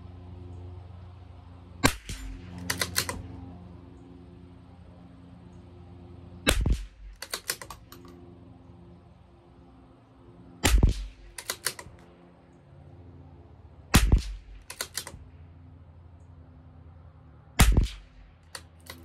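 Five sharp rimfire rifle shots from a CZ 457 LRP with an IBI barrel, firing RWS Special Match at 50 yards, spaced several seconds apart, each a loud crack with a short echo over quiet outdoor background.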